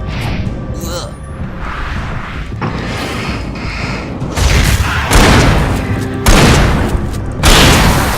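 Pump shotgun blasts in the video game Alan Wake at the Anderson farm, several loud booming shots in a row amid whooshing game effects and dense rumbling action noise.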